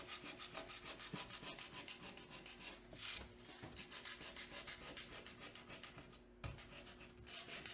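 Steady abrasive rubbing of sandpaper over painted wood, worked back and forth in a continuous rhythm at close range, with a few brief louder scrapes and no talking.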